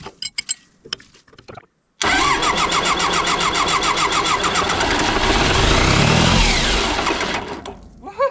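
An old, long-abandoned bulldozer diesel engine running on plain diesel fuel without ether cranks briefly, then catches at about two seconds and runs loudly with a steady, rough, rumbling clatter that rises before fading near the end.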